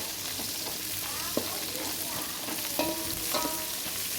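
Spices and chopped onion roast in hot oil for bisibelebath, a steady close sizzle with occasional utensil scrapes and clinks against the pan, no talking.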